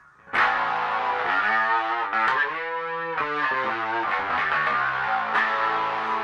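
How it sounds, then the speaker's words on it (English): Electric guitar in a live rig switching from a clean tone to a heavily distorted one, playing loud sustained chords and notes with thick harmonic buzz, steady and close throughout with no talking. "And then I can turn on the distortion"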